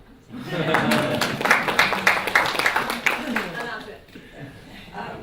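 Audience at an academic talk clapping in a steady patter of many hands, building quickly and tapering off after a few seconds, with some voices and chuckles mixed in.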